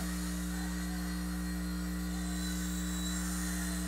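An Eachine E129 toy helicopter flying indoors, a steady buzzing whine with a constant rotor hum, holding even and close throughout, no voices.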